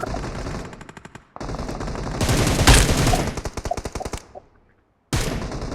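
Video game gunfire comes in loud, rapid automatic bursts of machine-gun fire, separated by short pauses and a near-silent gap before firing resumes.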